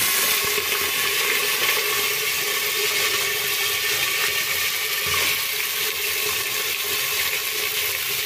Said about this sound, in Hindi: अब पहले इसको फ्राई कर लीजिएगा ये ऑयल में।